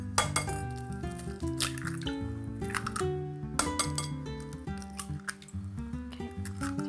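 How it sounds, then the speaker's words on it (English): Two eggs cracked into a bowl for muffin batter, several sharp clinks of shell against glass with wet squishing and drips, close and clear over a faint background of music. "Then I'm going to crack 2 eggs."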